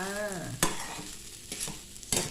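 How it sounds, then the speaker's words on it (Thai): A spatula stirs mackerel fried rice with cha-om and fresh chili in a pan, soft scraping strokes with a few sharp clacks against the pan over a faint sizzle, close and fairly quiet. "แล้วก็คนค่ะ"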